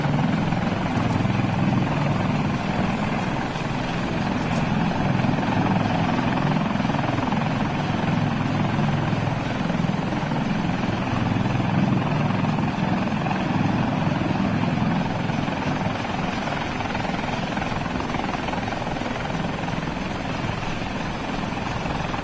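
A Super Stallion helicopter flies in Arma Reforger, its rotor and engine a loud, continuous thrumming roar that holds steady and close the whole time.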